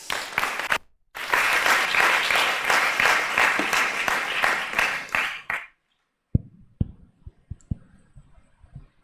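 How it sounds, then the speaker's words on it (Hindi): An audience at a Hindi religious discourse on the Niyamsar scripture breaks into a burst of brisk clapping that lasts about five seconds, then cuts off abruptly, leaving only a few scattered sharp clicks and taps. "ये तालियां तो आपने भैया के लिए बजाई है।"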